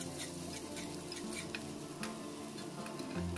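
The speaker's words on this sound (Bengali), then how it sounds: "পেঁয়াজ কুচিটাকে একটু লাল লাল করে ভেজে নেব" Chopped onion frying in mustard oil for a spinach dish, giving a steady, close sizzle with light stirring scrapes throughout and no voices.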